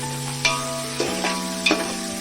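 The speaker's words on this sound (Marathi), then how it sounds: "आणि अर्धा किलो चिरलेला कांदा भाजूया चांगला टोपात टाकून" Chopped onion, half a kilo, sizzles in oil in a cooking pot with a steady frying hiss, punctuated by a few clinking stirs of a spoon against the pot.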